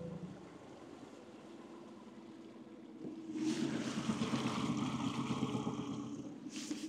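Outboard motor running on a Brema 435 V boat fitted with a Tohatsu 20 HP engine, a steady engine drone with water rush that swells louder after a few seconds and holds at speed.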